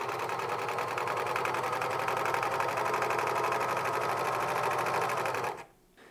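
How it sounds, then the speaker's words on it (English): Serger overlocking the edges of shirt fabric pieces while sewing a 70s mock neck top, a steady close, loud whirring stitch rhythm that runs without pause for about five seconds before stopping abruptly. "just serging around the edges to prep the corners"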